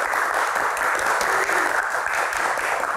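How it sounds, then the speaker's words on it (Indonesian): A television studio audience applauds steadily at a talk show, dense and continuous clapping that fills the room without a break. "Tepuk tangannya mana teman-teman?"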